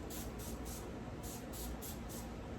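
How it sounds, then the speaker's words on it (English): A Febreze honeysuckle-scent air freshener sprays in about seven short hissing bursts, close and loud, in two quick groups with a brief pause between. "Spray a little bit of that now."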